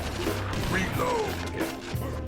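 A gun reloads in House of the Dead Overkill with mechanical clacks and a sliding metallic ratchet against a busy game soundscape of rumbling music and effects.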